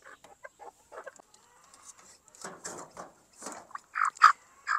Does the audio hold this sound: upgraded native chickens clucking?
yes